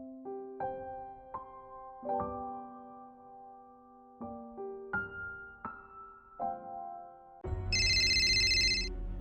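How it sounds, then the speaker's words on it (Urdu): A telephone rings as a sound effect in an Urdu audio drama: a run of clear electronic ringtone notes, then a loud, sustained metallic bell ring at the end, with no voices. "فون کی گھنٹی دیر سے بج رہی تھی"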